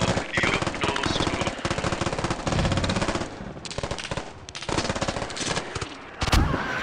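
Rapid automatic rifle fire in the game Squad rattles in long, loud, close bursts of evenly spaced shots, with short pauses between strings.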